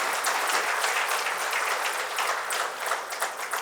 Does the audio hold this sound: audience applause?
yes